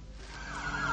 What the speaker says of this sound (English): I can't think with all these sirens.